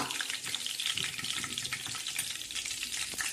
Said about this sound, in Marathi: कढीपत्ता मस्त असा तडतड करत आहे